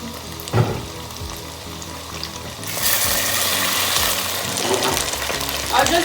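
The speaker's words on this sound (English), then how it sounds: "I add my chopped tomatoes. I'm just giving it a nice stir" Chopped tomatoes stirred in a hot pot for Cameroonian poulet DG, a steady sizzling and frying hiss with occasional spoon scrapes, rising louder partway through, with brief talk in the background.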